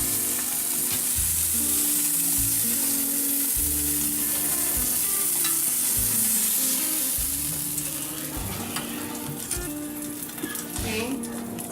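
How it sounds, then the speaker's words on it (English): Pork chops sear loudly in a hot skillet, a dense steady sizzle and crackle that runs throughout with occasional utensil clinks, easing slightly toward the end. "So the point is just to brown the outside of the pork chop here."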